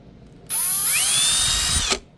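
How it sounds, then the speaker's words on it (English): A power drill bores a hole in an RC crawler beadlock wheel, spinning up in a single loud, high whine that lasts about a second and a half, then stops. "I'm just going to drill it full of holes just because I want lots of air movement"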